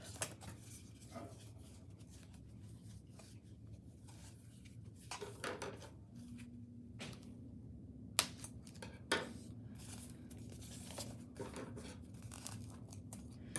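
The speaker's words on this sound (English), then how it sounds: "you do have to use some scissors and just cut it" Quiet snipping and rustling of scissors working through material, with scattered small clicks and handling noises over a low steady background hum.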